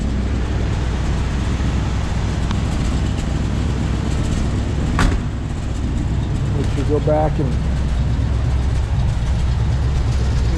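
A 1965 Buick Riviera with its 425 Wildcat V8 idles steadily after a cold start, a constant low rumble running throughout while someone talks over it.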